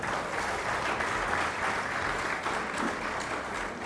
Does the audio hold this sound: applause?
yes